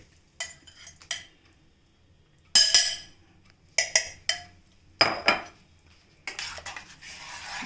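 A utensil stirs buttermilk into boiling vegetables in a metal pot, giving sharp clinks and scraping knocks in irregular bursts with short pauses between, close and clear with no talking.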